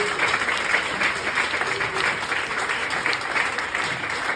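A church congregation applauds together to acclaim the Lord, a dense, sustained clapping that fills the room evenly from start to finish.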